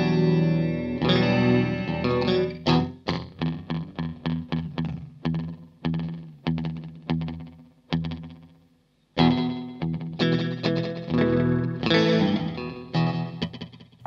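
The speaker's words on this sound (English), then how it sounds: "you can almost dial in sort of reverb-y style delay with this" An electric guitar plays a rhythmic picked phrase through a Fender Mirror Image delay pedal set to dotted-eighth delay, each note repeating in quick echoes, with a brief pause midway before the pattern resumes.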